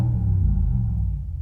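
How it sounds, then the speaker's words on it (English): Deep, loud V8-style rumble played through the speakers of an electric Mercedes-AMG car, a steady low drone that holds for a moment and eases slightly, with no talking. "they've made it sound like a V8."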